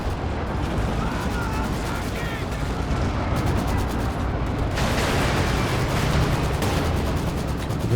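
A Panther tank fires and lands hits in a Company of Heroes 2 3v3 battle, amid a dense, continuous din of gunfire, cannon booms and explosions.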